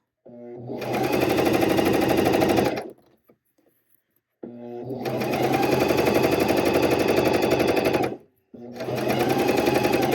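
A sewing machine stitches fold-over elastic binding onto knit fabric. It runs in loud, steady motor bursts of about three and four seconds, separated by a short quiet pause, then a third run begins.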